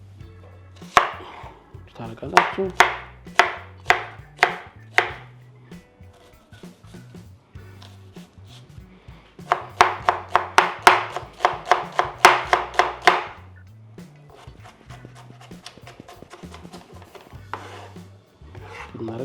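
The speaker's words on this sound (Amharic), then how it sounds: "ሽንኩርቱን መክተፍ እንጀምራለን" A knife chops onions on a board for cauliflower firfir, in quick rhythmic bursts of sharp close strikes separated by short pauses, with a brief word of speech.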